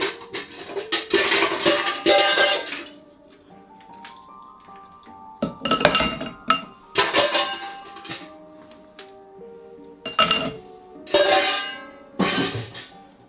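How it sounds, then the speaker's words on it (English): Ice cubes are dropped into a cocktail glass in several separate bursts of clinking and clattering, with bright ringing tones of glass lingering between drops, close and fairly loud, no talk. "Now get your glass and put in the ice cubes."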